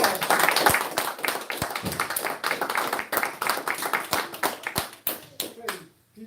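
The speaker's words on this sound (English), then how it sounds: "Let's give our beloved brother another round of applause." Congregation applause at a temple service, many hands clapping steadily in a dense room-filling wash, with a few louder individual claps, tapering off toward the end as voices murmur underneath.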